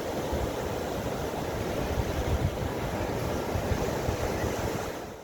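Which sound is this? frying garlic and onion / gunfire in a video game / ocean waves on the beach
ocean waves on the beach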